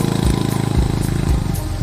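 A small motorbike engine labours under the weight of two riders on a road in rural Vietnam, a close, steady buzzing putter with slight throttle surges.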